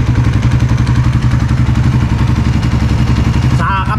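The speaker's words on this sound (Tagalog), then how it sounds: "Pakinggan nyo yung makina." A Suzuki Raider FI 150 motorcycle engine idling close up, a steady even thrumming pulse that holds loud and unchanged before a brief clatter near the end.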